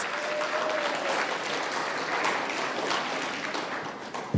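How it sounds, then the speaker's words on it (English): Audience applause fills a hall after a Bharatanatyam arangetram dance performance, a steady dense wash of many hands clapping at even loudness throughout, with no voices over it. "Let's give another huge round of applause to Shruthi on such an incredible performance."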